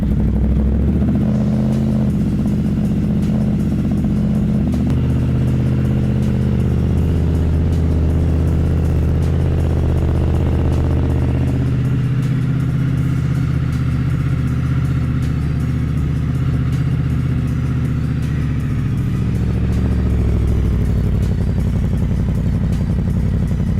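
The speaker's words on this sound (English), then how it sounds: "the bike fired right up" A Yamaha R1 sportbike engine starts and settles into a loud, steady, close idle with a deep throbbing rumble that runs throughout.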